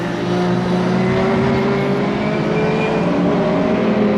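Mini race cars drag up a hill at Devil's Elbow, engines holding a loud, sustained droning whine with steady harmonic tones, no talk over it.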